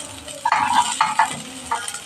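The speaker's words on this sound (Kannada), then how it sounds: "ಅರ್ಧ ಈರುಳ್ಳಿ ಹಾಕೋತಾ ಇದ್ದೀನಿ ಫ್ರೈಗೆ." Half an onion frying in a pan, a steady close sizzle with a few scraping stirs of a spoon against the metal, no voices.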